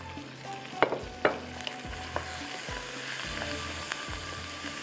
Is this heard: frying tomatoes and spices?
yes